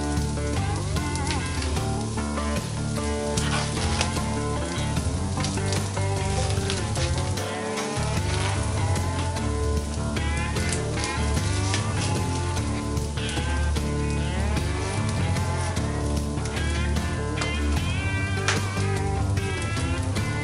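Onions and peppers fry in a pan, giving a constant loud sizzle with crackling pops and spatters that carries on without a break for twenty seconds, with no talking.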